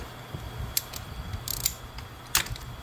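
Ratchet wrench with a spark plug socket, swivel and long extension loosening a spark plug on a Hemi engine, giving a few quick bursts of ratcheting clicks close by, with no talk.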